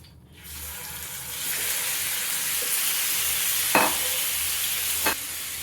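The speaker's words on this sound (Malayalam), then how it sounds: "നെയ്യ് ചൂടായ ശേഷം മാരിനേറ്റ് ചെയ്ത ചിക്കൻ പീസസ് അതിലേക്ക് ഇട്ട് കൊടുക്കാം." Marinated chicken pieces hit hot ghee in a pan for a Kerala-style chicken ghee roast. A loud, steady sizzle runs throughout with a couple of sharp clatters and pops, and nobody talks.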